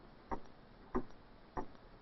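A clock ticks three times at an even, slow pace, each tick a sharp, faint click alone against quiet background hiss.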